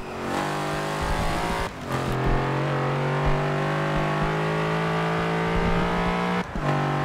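A brown retro muscle car in Forza Horizon 2 revs and drives with an automatic gearbox, its engine note loud and steady with two sharp gear-change dips, no speech.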